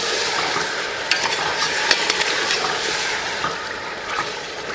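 Marinated chicken going into hot oil in a pot and being stirred, a continuous close frying sizzle broken by scraping strokes and small clatters of the spoon, with no talking.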